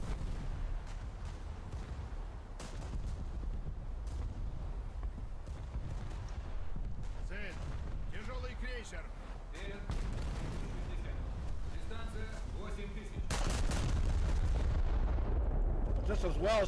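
Heavy battleship gun salvos from a Russian Izmail battleship in the naval video game War Thunder, deep booming blasts with rumbling tails, the loudest near the end, amid game noise and someone talking.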